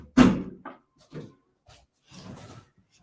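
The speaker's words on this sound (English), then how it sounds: "Let me try and open this door." A house door is opened indoors: a sharp loud knock or latch clunk at the start, followed by a few softer wooden bumps and a brief rustle, with no talking.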